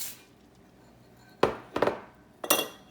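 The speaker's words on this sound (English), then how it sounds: "I'm gonna stir that" A spoon stirs orzo noodles into a pot of meatball spinach soup, first near-silent, then three sharp metallic clinks of the spoon against the pot in quick succession, close and clear with no speech.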